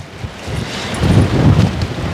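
Wind buffets an outdoor microphone with a low, rumbling roar that grows stronger and gustier in the second half.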